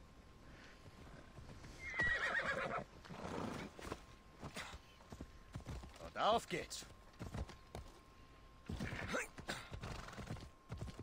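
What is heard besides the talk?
horse neighing and galloping in video game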